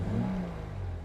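A naturally aspirated 2.4-litre engine in a Subaru BRZ with a six-speed manual hums steadily at low revs, its pitch sagging and then holding under a constant road and cabin roar.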